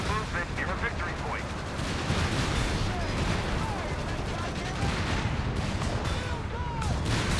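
Company of Heroes 3 battle with a Stuka rocket artillery barrage and anti-tank gun fire, a continuous rumble of distant blasts and shots under steady commentary, with sporadic louder impacts.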